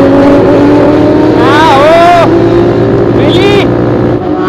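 A BMW 10R motorcycle engine revs hard through a high-speed wheelie, rising pitch sweeps climbing over a loud, steady engine drone, with a second shorter rev surge near the end.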